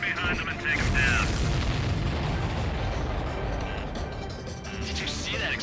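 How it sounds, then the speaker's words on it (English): Explosions and gunfire in the Ace Combat 7 aerial combat game, a loud rumbling blast that rolls on for several seconds, with voices talking over it. "Did you see that explosion?"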